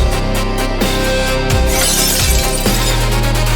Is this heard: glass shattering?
yes